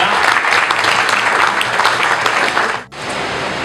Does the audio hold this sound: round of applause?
yes